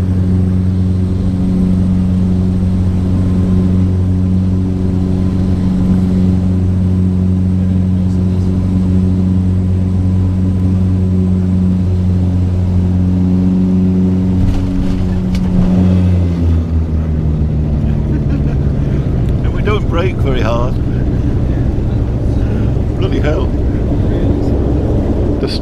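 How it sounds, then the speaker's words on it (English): Small aircraft landing on a flight to Islay, a loud droning engine hum that drops in pitch as it touches down, followed by rumbling roll-out noise and brief talk from people aboard. "Coming into land."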